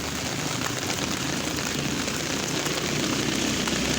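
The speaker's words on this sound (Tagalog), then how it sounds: "Kasi ang ulan." Steady heavy rain pours down in an unbroken, dense hiss with no pauses, loud and close, with no voices.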